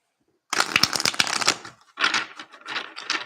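Tarot cards are shuffled by hand in two close, crisp riffling bursts, a dense flurry of snapping and fluttering followed after a brief pause by a softer, looser run of shuffling.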